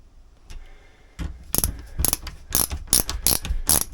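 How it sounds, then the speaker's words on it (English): A screwdriver tightens short screws on the boom fitting of a lugger sailboat, giving a run of close, rhythmic ratcheting clicks that grow louder and more regular over a few seconds. "let's see if we can just tighten these screws up a little"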